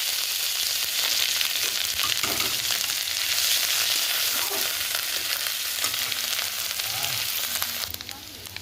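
Ginger sizzles loudly in hot oil in a pan as part of a Bengali pabda fish recipe, a dense steady frying hiss with occasional stirring scrapes, close and without talk, easing slightly at the very end.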